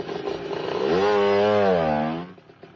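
A motorcycle engine revs close by, its buzzing pitch climbing, holding, then sinking again before settling back to idle.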